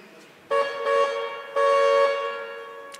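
A vehicle horn sounds in two sustained honks of about half a second and one second, loud and near, over a quiet background.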